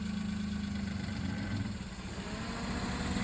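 A car's engine runs at a steady low rumble during a driving lesson, with a constant close hum and slight vibration and no talk.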